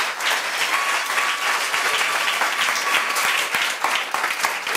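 Sustained audience applause at a church service, a dense, steady patter of many hands clapping close by and loudly for the whole stretch, with no voices rising above it.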